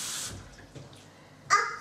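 Hot water poured into a glass with sugar while making pogaca dough, a short close splash that fades and then swells into a brief louder gush near the end.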